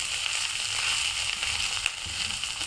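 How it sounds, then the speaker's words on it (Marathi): Peanuts roasting in a little oil in a pan, a steady close sizzle and crackle with faint scattered pops throughout, no talking. "शेंगदाणे पण आपण थोडेसे हलकेसे तेलामध्ये भाजू"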